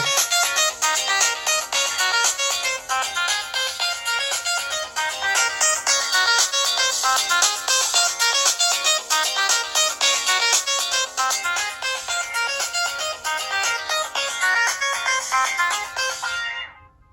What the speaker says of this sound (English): that's your Sony Ericsson ringtone from back in the day, Summer Flow